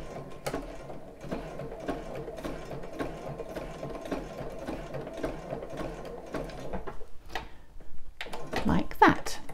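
Sewing machine running in reverse backstitch over thick narrow bra fabric, a steady mechanical whir with ticking needle strokes, then handling clatter near the end, while someone talks over it.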